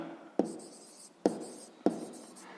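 A pen writes an answer on paper for a sixth-grade math exercise, with three firm taps spaced about a second apart, each followed by a short scratchy stroke, close and without talk.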